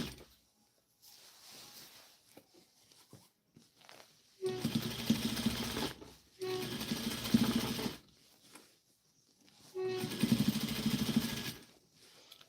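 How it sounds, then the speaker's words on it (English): Industrial sewing machine with a size 14 needle topstitching stretched fabric, running in three sustained bursts of rapid whirring stitches separated by quiet pauses with faint handling sounds. "So now I'm gonna go ahead and top stitch that."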